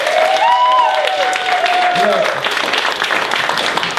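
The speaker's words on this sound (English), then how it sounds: "Give another round of applause for Corner Office this evening" Applause from a theater crowd at a short-form improv comedy show keeps going steadily throughout, with a voice speaking over it at the start.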